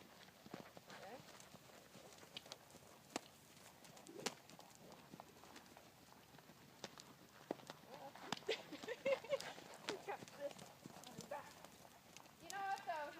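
A horse's hooves beat on the ground as it is ridden at a canter in a riding lesson, a faint rhythmic drumming that picks up near the end, with people talking over it.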